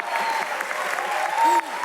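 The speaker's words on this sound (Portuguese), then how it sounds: "Vamos aplaudir de novo, gente, para deixar ele com mais vergonha." Audience applauding again during a church ministry talk session, short burst of lively, close clapping filling the room, with a few voices and a brief whistle-like shout over it.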